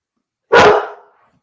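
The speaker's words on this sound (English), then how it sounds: "Oh, of course, my dog is barking now for no reason." A single loud, close bark from a dog rings out alone against silence and fades quickly.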